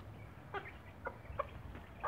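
Bearded chickens at a stable coop cluck in faint, scattered short calls over quiet farmyard background.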